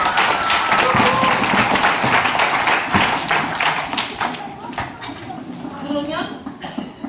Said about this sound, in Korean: 여러분 나 위에서 박수 한번 안 쳐줄래?